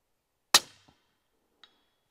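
A B&T 300 SPR suppressed rifle fires a single sharp shot, followed about a second later by a faint metallic ping as the round strikes a 5-inch steel target downrange; no talking.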